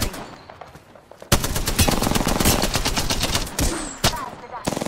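Automatic gunfire in Apex Legends, a sustained loud rattling burst of rapid shots after a brief quiet start, then a pause and a few shorter bursts, with a voice faintly underneath.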